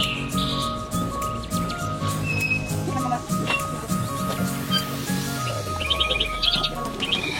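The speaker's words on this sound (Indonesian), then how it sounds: "kita masuk ke sangkar burung walet nih" A dense chorus of swiftlets chirps and clicks inside a swiftlet bird house. The calls are steady and continuous, with a low hum underneath and a few brighter tweets standing out near the end.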